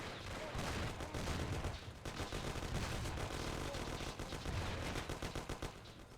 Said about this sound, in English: But Morello's men cut in and a shootout breaks out.